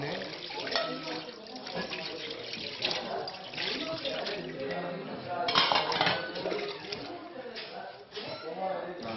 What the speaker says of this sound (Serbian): su ona uzela i peru sudove